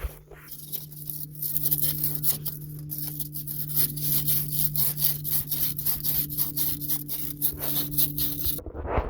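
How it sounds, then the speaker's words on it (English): Fine sandpaper scrubs rust off the steering idler arm sleeve of a 1979 Ford Granada, a rapid, rhythmic back-and-forth rasp close up, with a steady low hum underneath. "I'm going to take some fine sandpaper and clean that up"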